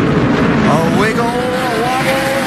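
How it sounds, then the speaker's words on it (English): NASCAR Sprint Cup stock car engines racing at Watkins Glen, a loud sustained roar with a rising and falling whine as a car is driven hard on the throttle. A commentator talks over it. "Here comes Ambrose hard in the throttle"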